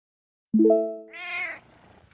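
A single cat meow, loud and close, rising and bending in pitch over about a second, then fading into quiet room hiss.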